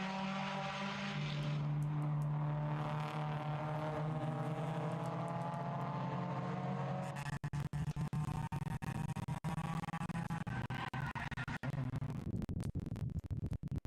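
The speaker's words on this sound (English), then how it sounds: "we had Carlos Schooler pull his Toyota MR2, the orange MR2 that we're seeing come up the hill right now" An orange Toyota MR2 race car drives up a hill at a racing circuit, its engine a sustained, rising whine heard from a distance that gives way to rough, crackling noise, with no talk.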